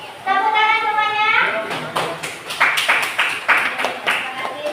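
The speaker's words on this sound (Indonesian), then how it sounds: "Tepuk tangan semuanya" Children in a classroom clap together in a burst of scattered applause after a voice, the claps close and uneven, lasting a couple of seconds.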